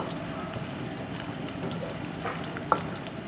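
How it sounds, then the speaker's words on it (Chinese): Silkworm pupae deep-frying until crisp in a pan over moderate heat give a steady, soft, close sizzle throughout, with one brief sharp clink near the end. "这个先下锅，这个呢要把它炸脆啊"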